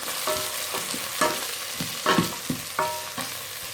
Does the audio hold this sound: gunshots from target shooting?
no